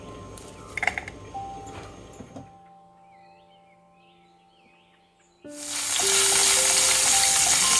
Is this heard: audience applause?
no